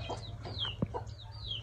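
A chicken chick makes a short, faint cluck outdoors, with soft chirps and a steady low background hum.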